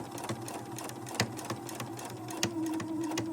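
Sewing machine running steadily while stitching a Christmas tree napkin, a continuous mechanical whir with periodic clicks and thumps, close and moderately loud, no talking.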